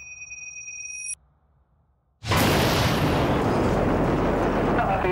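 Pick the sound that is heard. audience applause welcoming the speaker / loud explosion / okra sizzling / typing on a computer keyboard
loud explosion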